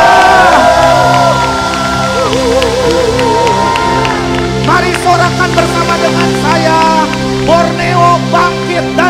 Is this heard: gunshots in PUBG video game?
no